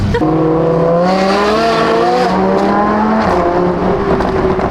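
A powerful supercharged Lamborghini engine revs hard and loud, its whining pitch climbing steadily before dipping and rising again, with no voices.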